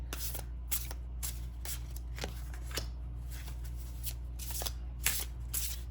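Tarot cards are shuffled by hand in a quiet room: a run of soft, quick riffling bursts repeats at an irregular pace under a low steady hum.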